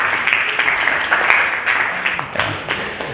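A classroom of students claps briefly for a classmate during a sociology lesson, light scattered applause under a little faint talk.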